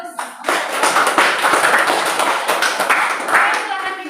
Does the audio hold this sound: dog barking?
no